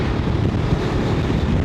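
Strong wind buffets a microphone outdoors on a motorcycle trip, a loud, continuous low roar that rumbles without a break for the whole stretch.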